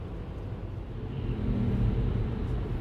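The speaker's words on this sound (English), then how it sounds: "the Tesla truck carrying rocks" A Tesla truck hauling a load of rocks rumbles past, a low, steady drone that swells gradually and peaks as it nears, then eases slightly, heard from a moderate distance.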